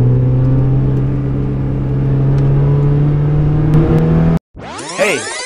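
A Mazda Miata drives along a curvy country road on a summer's day, its steady engine note humming loud and close, then cutting out abruptly before a brief whooshing sweep returns.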